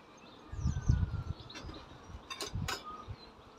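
Honeybees buzz faintly around a nuc box while a split colony is moved into a full brood box, a low, uneven hum with a few sharper passes of bees flying near.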